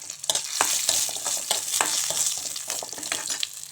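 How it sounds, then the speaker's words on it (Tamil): Onions sautéing in a pan for a manathakkali greens chutney, a dense close sizzle with repeated scraping strokes from stirring throughout. "வெங்காயத்தையும் போட்டு வணக்கிடுங்க"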